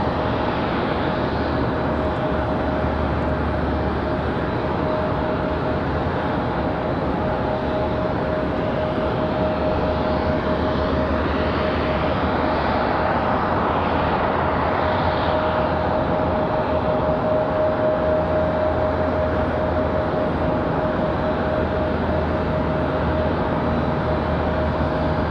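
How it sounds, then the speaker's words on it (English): JetBlue airliner arriving from Fort Lauderdale on approach to Raleigh Durham International Airport, a continuous broad jet roar with a steady whine, loud and sustained throughout with no talk. "So here comes that JetBlue from Fort Lauderdale."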